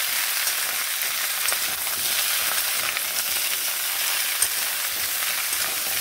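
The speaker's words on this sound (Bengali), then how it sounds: "ফোড়নগুলোকে কয়েক সেকেন্ড এইভাবে নেড়ে নিয়ে দিচ্ছি পুঁই ও কুমড়োগুলো।" Malabar spinach and pumpkin frying in hot oil with spices, a steady close sizzle broken by faint stirring scrapes throughout.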